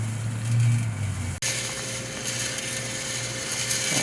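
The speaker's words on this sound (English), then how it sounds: "With this ESP32 I don't get any lag with the motor." An ESP32-controlled motor drives a planetary coffee bean roaster, giving a steady mechanical whir and rattle with a ratchet-like texture. It runs continuously apart from one brief dropout early on.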